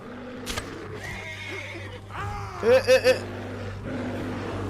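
A horse in Red Dead Redemption 2 gives a loud, close whinny of a few rising and falling pulses during a bear hunt, over steady game ambience and faint background voices.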